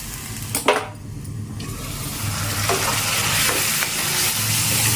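Onions and green chillies fry in a pan for a broad bean and dried fish curry, giving a steady close sizzle with a few sharp stirring scrapes and clicks near the start and scattered later.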